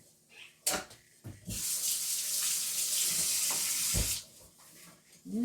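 Water runs from a kitchen sink tap in a steady, fairly loud rush for about two and a half seconds, framed by brief knocks and clatter of items being handled before and after.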